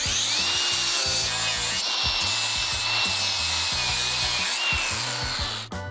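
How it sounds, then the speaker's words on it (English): A grinder works a welded seam on a BMW 330i race car, making a steady, loud abrasive rasp with an underlying motor whine and rhythmic scraping strokes throughout. "Now we're just gonna hit it with the grinder and kind of clean it up."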